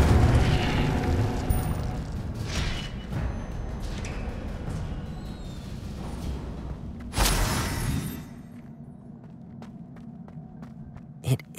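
Incendio fire spell cast in Hogwarts Legacy: a rushing burst of flame and magical whoosh, loud and broad, swelling briefly before fading into quieter ambience with a few faint clicks.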